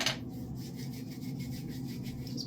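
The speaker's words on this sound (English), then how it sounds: "Just a little on my fingertips," Light hair oil rubbed between fingertips, a soft continuous close-up rubbing with a faint swish at the start, quiet and steady with no talk.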